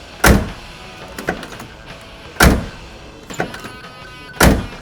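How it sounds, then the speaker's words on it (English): A 1969 Chevrolet Camaro Z/28 door is shut three times, each a solid, loud, close thunk followed by a softer latch click, spaced about two seconds apart, with no talking. "I couldn't get over how well this Camaro door sounded and fit when I was looking at it."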